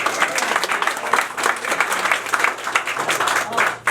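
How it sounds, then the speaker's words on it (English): Audience applause for service members, including a Marine, in a room at a Missouri U.S. Senate campaign event in Kansas City; steady, dense clapping from many hands filling the whole stretch, with some voices mixed in. "first let's give those folks a round of applause"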